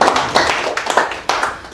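An audience claps for a lecturer, Chairman Kim, at a Saturday guest lecture, with a few uneven bursts of hand claps that rise and fade over a short span, fairly close.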